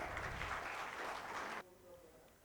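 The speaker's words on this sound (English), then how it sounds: "Can we have a huge round of applause, ladies and gentlemen?" Audience applause at an education conference, broad clapping filling the room for about a second and a half before cutting off abruptly, leaving a faint quieter tail.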